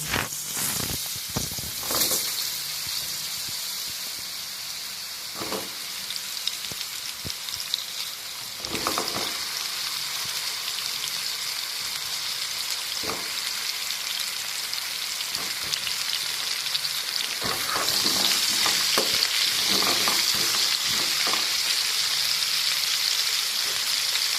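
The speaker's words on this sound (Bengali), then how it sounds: "ভেজে নেওয়ার একই তেলেতে আলু আর বেগুনগুলো আমি ভেজে নেব।" Potatoes and eggplant frying in the same oil used for hilsa fish, a loud unbroken crackling sizzle lasting throughout, punctuated by occasional sharp clatters of stirring or pieces dropping in.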